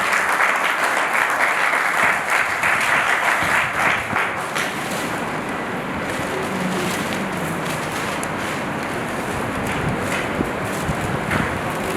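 An audience claps at an honouring ceremony, a broad, dense wash of applause that stays steady and loud for the whole stretch, with a bit of wind-like noise behind it.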